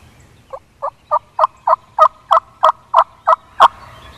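A wild turkey in Ohio countryside gobbles in a rapid series of about eleven sharp, evenly spaced calls, fairly close and clear, with no talking over it.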